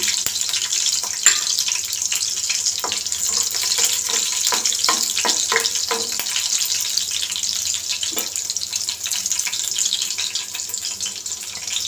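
Steady crackling sizzle of tempering spices frying in hot oil for an okra curry, with a few sharper pops and spits over a constant hiss, close by.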